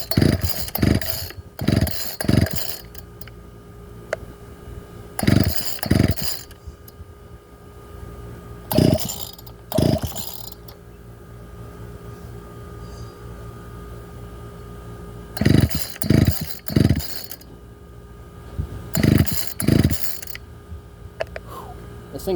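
An old Ryan string trimmer engine firing in repeated short bursts, surging loud then dropping back between revs, close up with steady idle rumble in the gaps.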